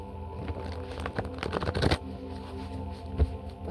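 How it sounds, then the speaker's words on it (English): A deck of cards is riffled close by in one quick ruffling burst, followed by a soft tap against quiet room noise. "I'm gonna shuffle it one more time."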